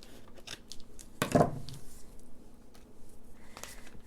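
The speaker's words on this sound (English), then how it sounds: "got a little extra here that I need to cut off" Scissors snip away surplus paper from a paper bag gift envelope craft, giving one short, close crunching cut amid quiet handling noises.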